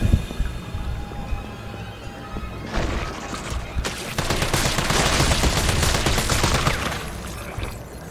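Gunfire in the Resident Evil 3 remake, a burst of rapid, loud shots and crashing impacts swelling in mid-clip after a quieter stretch, no talking.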